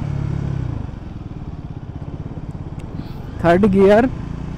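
A motorcycle engine hums steadily while riding in third gear at 40 km/h, with a low, even drone throughout and someone talking briefly over it near the end.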